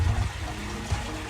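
Water scooped by hand from a garden pond to fill an aquarium: a short sloshing splash near the start and a second smaller splash near the end, close and fairly soft, with no talking.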